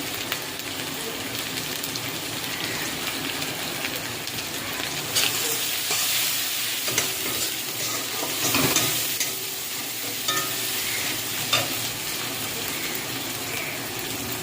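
Spice masala with Kashmiri chili powder fries in oil as it is stirred, a steady close sizzle broken by scraping sweeps of the spoon against the pan, with no talking.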